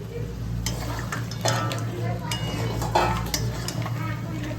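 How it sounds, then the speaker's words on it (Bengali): Fried crabs go back into a pan of cooked-down masala and are stirred, with a steady low sizzle beneath repeated spoon scrapes and metal clinks against the pan at moderate volume. "এবার আমি দিয়ে দেবো কাঁকড়াগুলো, ভেজে রাখা কাঁকড়াগুলো দিয়ে দিলাম।"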